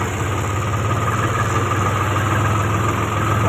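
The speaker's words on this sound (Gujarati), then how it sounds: "પહોંચી ગયું છે આપણું ટ્રેક્ટર, લોડિંગ થઈ ગયું છે।" A sand-loaded tractor idles close by with a steady, loud low rumble and constant vibration, unbroken throughout with no voices.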